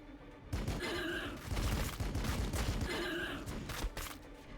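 Squad gunfire in the strategy game Warhammer 40k: Battlesector, two loud sustained bursts of massed rifle fire with crackling impacts, separated by a brief lull.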